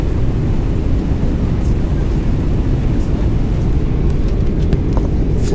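Steady, loud rushing wind roar fills a Boeing 777-300ER cabin on approach with the flaps extended, a constant broadband drone with no voices.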